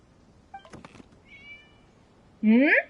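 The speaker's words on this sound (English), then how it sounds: "It was just a cat." A cat in the Genshin Impact video game gives one clear, close meow near the end, after a few soft clicks and a faint tonal chirp.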